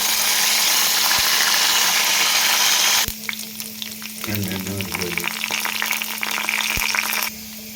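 Mustard seeds and curry leaves hit hot oil for an orange peel chutney, bursting into a loud, close sizzle that fades and turns to sputtering crackles and pops, with a steady hum underneath.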